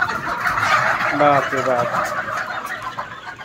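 Native Sonali chickens on a poultry farm call out in a short burst of clucking and gobble-like cries, heard close and moderately loud through a noisy hall, with a person's exclamation over them.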